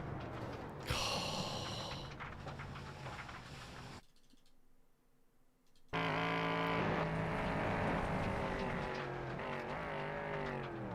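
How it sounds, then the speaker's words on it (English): Race car engine in a racing video game, revving loudly with rising and falling harmonic pitch sweeps as the car gets on the accelerator, broken by a brief quieter gap before the engine roars back at full volume. "It sounds like they get on the accelerator"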